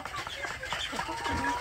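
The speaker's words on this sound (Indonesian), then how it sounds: "Jadi menciptakan situasi yang alami agar ayam kampung saya ini, nah ini mereka sudah mulai kenyang-kenyang ini ya." Free-range village chickens cluck in a busy, overlapping stream across the short stretch, with someone talking over them.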